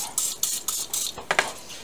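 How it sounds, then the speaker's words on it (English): Several short hissing spray bursts of cooking oil onto bread dough, spaced unevenly, each a quick airy puff of mist, close and fairly soft, with no talking. "I'm going to grab some oil spray and just lightly spray a little bit around and on that dough"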